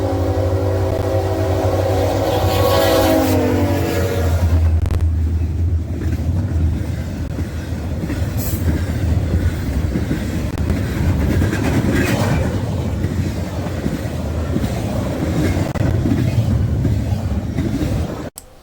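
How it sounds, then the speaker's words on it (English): CSX freight train IO17 passes close by with ex-Conrail LSD-40-2 locomotive CSX 8833 trailing, a loud engine rumble and horn-like tones giving way to a steady roar of rolling cars and rail clatter for the rest. "Directly behind I009 that day was IO17 with CSX 8833 trailing."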